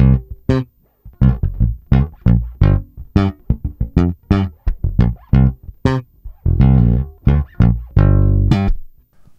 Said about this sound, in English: I am plugged into the Diamond Bass Comp Junior, which is a compressor.